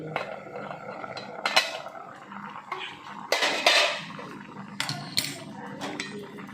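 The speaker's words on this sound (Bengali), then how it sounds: "এবারে ঢাকনাটা খুলে নিচ্ছি" Lid lifted off a cooking pot of pangas fish, with several close metallic clanks and scrapes of lid and utensils against the pot, separated by quieter gaps of low kitchen noise.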